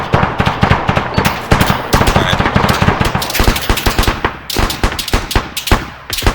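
Machine gun and rifle fire crack in dense, continuous overlapping bursts during military squad training in the field, loud and rapid throughout.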